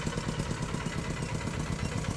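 A tractor engine runs steadily at a low, even chug with a rhythmic clatter, close and continuous throughout.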